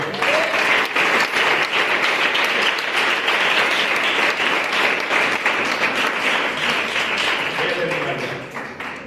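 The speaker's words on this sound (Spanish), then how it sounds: "Le damos un fuerte aplauso al Señor, por favor" A church congregation gives a loud, sustained round of applause to the Lord during a sermon, many hands clapping in a thick, continuous roar that fades slightly at the end, with a voice briefly heard near the close.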